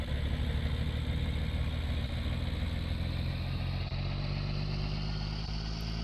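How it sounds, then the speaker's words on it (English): Steady low diesel drone of a Cummins engine in a Ram pickup truck in Farming Simulator 19, holding an even, loud rumble that swells slightly toward the top end without letting up. "torque sound of the Cummins"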